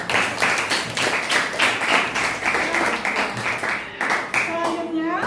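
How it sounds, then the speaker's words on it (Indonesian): A class gives a round of applause for a student named William during a classroom guidance lesson, steady clapping from many hands lasting about four seconds before fading under a voice. "Tepuk tangan untuk William."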